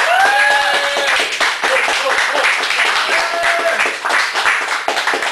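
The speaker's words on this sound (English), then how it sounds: "I want everyone to give a big round of applause for our feature tonight, Jenene Ravesloot." A cafe audience in Chicago at a poetry feature gives a lively round of applause, a close, brisk burst of many hands clapping, mixed with cheers and whoops that trail off.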